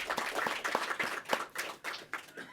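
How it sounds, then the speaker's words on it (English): A small audience at a city honors night gives a round of applause, a few distinct hands clapping in an uneven rhythm, fairly faint and close, with no talk over it. "I'm going to give them a round of applause"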